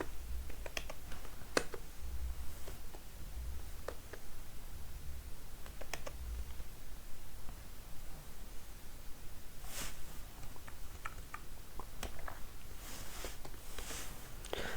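Typing on a computer keyboard in Notepad: faint, sparse key clicks and taps at an irregular pace over a hissing room background, with no voices.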